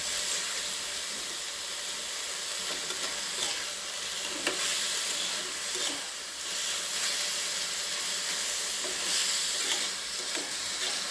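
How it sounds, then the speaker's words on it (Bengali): A yardlong bean bhorta mixture fries in a pan with a continuous close hiss and sizzle, broken by scraping strokes of a spoon stirring it through. "এবার একটু ভাজা ভাজা করতে হবে।"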